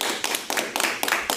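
A small group clapping for a participant named Yaya during a live show, giving a few quick bursts of sharp, close handclaps in an uneven rhythm, with no talking over them.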